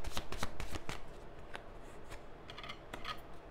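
Tarot cards being shuffled by hand, a quick run of riffling flicks followed by softer, sparser card slides, close and quiet.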